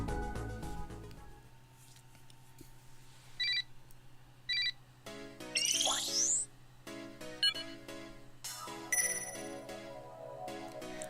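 Phone message notification in the video game Dramatical Murder, a short chime and a flurry of bright electronic pings over a low steady hum, with repeated tones spaced across several seconds.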